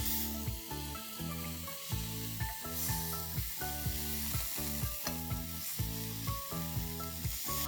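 Prawn tikka cooking on a tawa over a medium flame outdoors, a constant bright sizzle broken by rhythmic spatula scrapes and taps repeating roughly every half second, close and loud with no talking.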